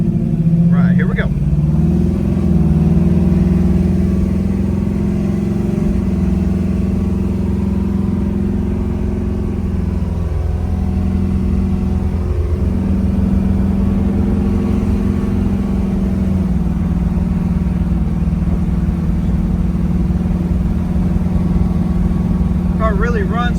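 A 1978 Chevrolet Camaro RS SS with a 396 V8 rated at 375 horsepower on a test drive: a loud, steady low engine drone heard throughout, with a couple of brief dips like gear shifts partway through.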